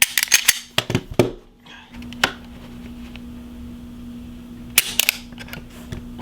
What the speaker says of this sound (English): let's go ahead and do some quick trigger pulls